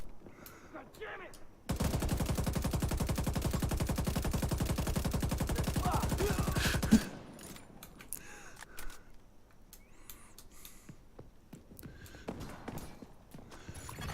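Rapid automatic gunfire in a video game, a dense sustained burst of shots lasting several seconds, loud and close, followed by quieter game ambience.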